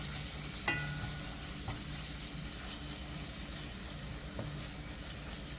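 Seasoned Jamaican saltfish rice mixture being stirred in a pot over a steady sizzling background, with a few soft scraping knocks from the spoon and no talk.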